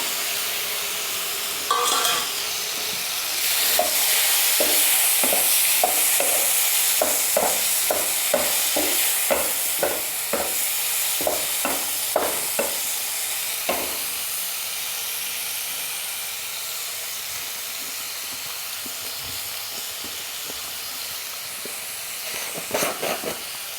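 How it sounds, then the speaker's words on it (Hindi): Mixed vegetables with chopped tomatoes frying in a pan, a steady sizzle and hiss under repeated scraping strokes of a spoon stirring, close and continuous with no talk. "और अब इसमें हम डाल देंगे 2 टमाटर जो हमने काट कर ले लिए हैं।"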